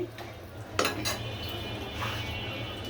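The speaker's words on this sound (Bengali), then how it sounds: "এখন করলাগুলো আমি দিয়ে দিচ্ছি।" Round slices of bitter gourd are tipped into a hot pan, giving a sharp metallic clatter of utensils and then a soft sizzle, all close and fairly quiet.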